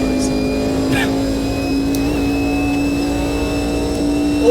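A race car engine in the Automobilista 2 racing game drones with a steady, fairly constant tone throughout, while someone talks over it.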